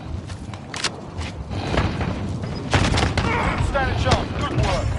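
Gunfire in the video game Warzone rattles in loud, rapid bursts, with automatic fire and booms layered over each other, nearby shots mixed with fainter distant ones, while a voice shouts over the action.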